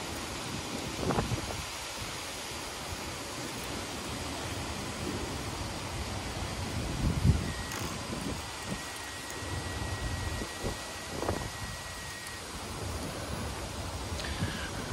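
Strong wind blows outdoors around a Liebherr 946 excavator, a continuous loud rushing and buffeting roar with occasional gusty thumps, no voices.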